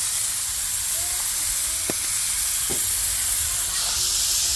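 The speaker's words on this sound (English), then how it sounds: "Sizzle" Hamburger patties sizzle on a smoky grill, a steady, loud broadband hiss of frying fat that runs unbroken throughout with a few faint clicks and pops.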